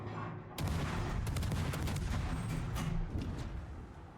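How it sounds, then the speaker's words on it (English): Naval gunfire in World of Warships, a dense rapid barrage of booming cannon shots with crackling impacts, loud and continuous after an abrupt start, easing slightly near the end. "Even the Baltimore is shooting you, Rob?"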